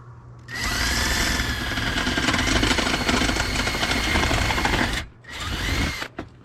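A power drill bores holes through a metal folding solar panel leg for an RV, a loud, whining burst lasting several seconds, then a short pause and a brief second run.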